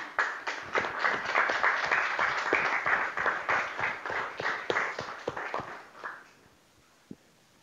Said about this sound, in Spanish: también a Tato Révora se merece un aplauso.